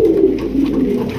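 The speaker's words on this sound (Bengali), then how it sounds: "হাঙ্গেরিয়ান বুদাপেস্ট কবুতর, অস্থির অস্থির" Hungarian Budapest pigeons coo close by, a loud, continuous warbling series of low throaty calls with no talk over them.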